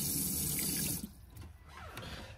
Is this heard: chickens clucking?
no